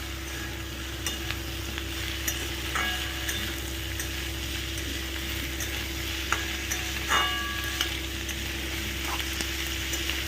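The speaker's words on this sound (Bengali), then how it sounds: "নুনটা দিয়ে ফ্লেমটা একটু বাড়িয়ে দাও, দিয়ে এটাকে একটু ভেজে ভেজে ভাজা ভাজা করে নাও" Sliced okra fries in a hot pan with salt over a raised flame, a continuous sizzle broken by occasional scraping stirs of the spatula, with no talking.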